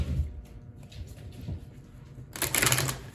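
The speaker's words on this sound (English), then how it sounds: "Sorry for my horrible shuffling skills." Lenormand oracle cards are shuffled by hand in soft, uneven rustles and taps, then a louder burst of riffling near the end, close and clear with no talking.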